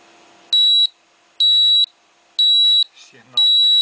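A homemade stepper-motor crane sounds a warning with its limit sensor disconnected: four loud, evenly spaced high electronic beeps, about half a second each, with brief faint clatter between the last two.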